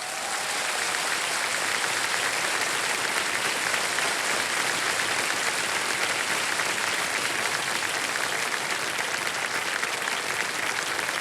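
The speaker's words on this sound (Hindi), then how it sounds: "ताली बच जाए इनके लिए।" On the set of the quiz show KBC, a studio audience keeps up loud, dense, sustained clapping that holds steady from start to finish with no voices breaking through.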